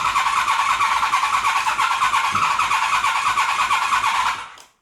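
A Honda VFR 750 motorcycle engine cranks steadily and sputters without catching, a continuous near, loud churning that stops abruptly near the end.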